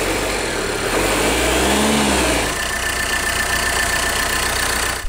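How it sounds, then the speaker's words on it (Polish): A 2.0-litre 174 hp diesel engine in a 2021 Opel Insignia idling with the hood open, giving a steady, close, rattling diesel clatter with a brief rev swell early on. "Z otwartą maską klekot niestety przypomina stare, dobre niemieckie diesle."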